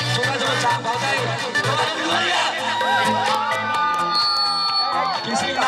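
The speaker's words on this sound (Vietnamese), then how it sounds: "chúng ta cho một tràng vỗ tay" An audience at a charity fashion show in Phủ Lý, Hà Nam, cheers and whoops over music, a steady, loud wash of crowd voices with scattered shouts throughout.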